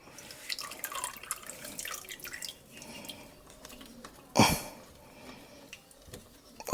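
Drained engine oil drips from a 2008 Honda Stream during a DIY oil change, heard as scattered close liquid drips and trickles, with one louder splashy burst partway through.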